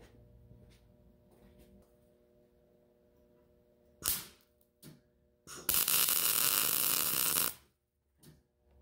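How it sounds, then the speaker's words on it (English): A metal drowning rod for trapping is arc welded: a short crackling burst, then a loud, close, steady buzzing hiss for about two seconds over a quiet background, with a few small clicks around it. "so that was a good first weld"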